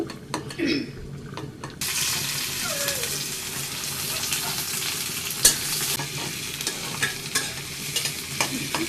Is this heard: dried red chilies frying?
yes